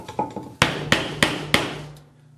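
Four sharp hammer blows strike a chisel paring end grain wood, evenly spaced and loud, after a few lighter taps, with a short ringing decay after each hit.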